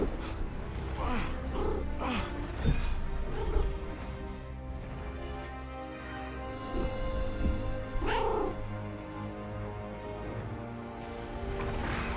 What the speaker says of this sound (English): My actual kitty is here making noises.